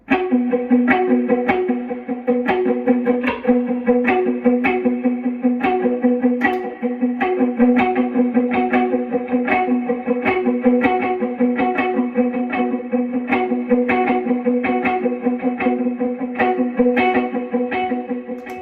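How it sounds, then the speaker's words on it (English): Distorted electric guitar plays a steady rhythmic pattern with quarter-note delay echoes trailing each note, giving a pulsing, layered sound. "essentially what you're hearing is this the quarter note delay"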